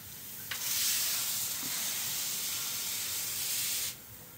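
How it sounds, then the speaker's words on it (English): Sealer sprayed in a thin coat onto old stamped concrete, a steady close hiss that starts abruptly, runs evenly for about three and a half seconds, then cuts off, with no talking. "we have had no issues just spraying, as long as you use the right technique and spray it down nice and thin."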